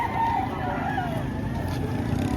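A rooster crows at a poultry market where chickens are being sold, the call fairly near and moderately loud over steady background noise with faint engine sounds.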